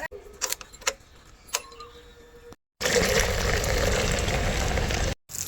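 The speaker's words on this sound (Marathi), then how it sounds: "तर आता फिलहाल तर गाडी धुवायची चालू आहे" Water splashes and sprays steadily over a car during washing, loud and close, after a few seconds of clinking and knocking sounds, with a brief gap in the spray.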